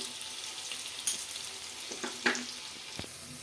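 Onions fry in a pan with a soft, steady sizzle and crackle, broken by a few light scrapes and stirs.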